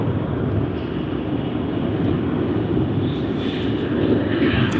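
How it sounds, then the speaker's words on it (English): Jet airliner departing Sydney Airport, a steady, loud broadband engine roar that holds constant throughout with no voices. "And another departure out of Sydney."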